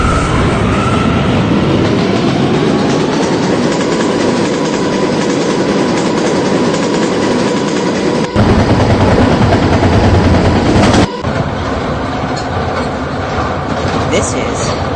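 An R179 subway train on the K line in the game PTA Subway runs loudly with a constant rumble and roar, the tone shifting abruptly partway through, under a recorded announcement voice.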